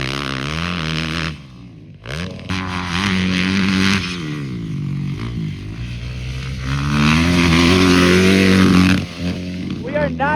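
A motocross motorcycle engine revs repeatedly at a pre-season pro race, loud and close, pitch climbing and dropping through several throttle blips with brief lulls, and a voice can be heard speaking over it.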